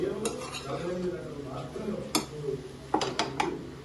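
A spoon stirs raw banana (aratikaya) fry in a pan, giving soft scraping under a low sizzle, broken by several sharp metallic clinks of utensil against the pan.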